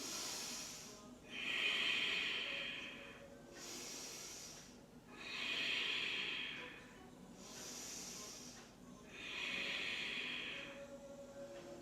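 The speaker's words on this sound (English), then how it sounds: "Keep breathing in and out through the nose." Slow, deliberate breaths drawn in and out through the nose during a yoga class, three long airy cycles at an even rhythm, close and fairly quiet with nothing else over them.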